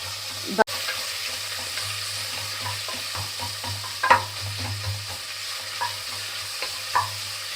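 Sliced onions sizzle steadily in a pan for Tamil Nadu style mutton biryani, with scattered scraping knocks from stirring and one sharp clank, close up and without talk.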